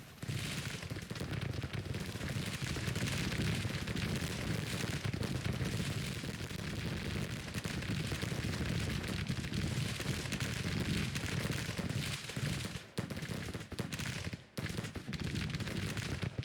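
Cannon fire and musket gunfire in the Grand Tactician: The Civil War video game, a dense continuous roar of distant battle noise lasting throughout with brief dips, no voices.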